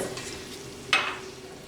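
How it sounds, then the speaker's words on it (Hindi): Onions sauté in a pan over the stove for a tomato chutney, a soft steady sizzle with one sharp clink of a utensil partway through. "इसको हम थोड़ा सा सौते करेंगे"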